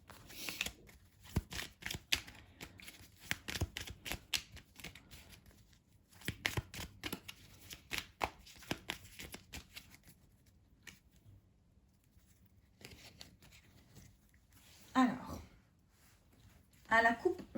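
A deck of oracle cards is shuffled by hand in bursts of quick, soft riffling and patter, broken by pauses, with a voice speaking near the end.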